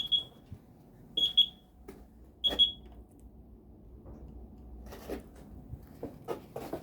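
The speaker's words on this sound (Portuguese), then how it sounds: "Eis aqui o alarme de novo." An electronic alarm beeps in short high chirps, one, then a pair, then another pair, clear against a quiet room, followed by soft handling noises and rustles.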